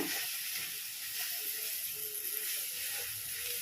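Homemade masala spice powder is stirred into a sizzling pan, with a constant loud hiss and faint scraping underneath.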